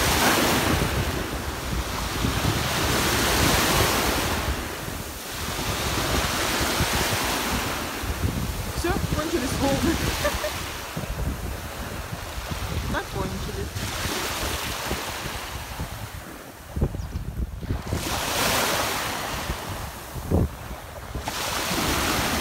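Waves break and wash up on a Black Sea beach at Byala, Bulgaria, with repeated surges rising and falling under heavy wind buffeting the microphone, loud and continuous throughout.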